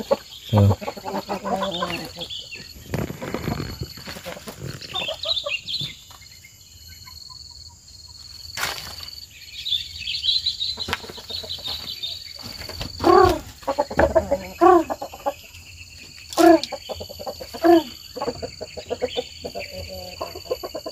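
Chickens and a rooster cluck and call in bursts around a family's forest hut yard as they are fed rice, with crickets and insects buzzing steadily in the background.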